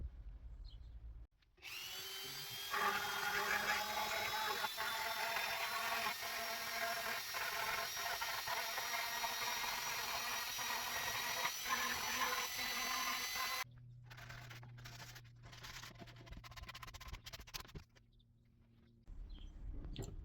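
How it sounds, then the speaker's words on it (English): A power sander whines steadily for several seconds on routed plywood, cuts out briefly, then runs again at a lower, rougher pitch before stopping. "there's all our general tidying up and sanding done"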